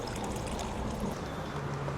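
Thick coffee concentrate poured into a glass, a soft steady trickling stream that runs continuously for a couple of seconds, close and fairly quiet.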